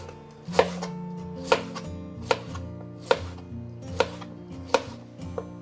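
A knife slices pineapple on a cutting board in a home kitchen, seven sharp taps spaced about a second apart, close and fairly quiet.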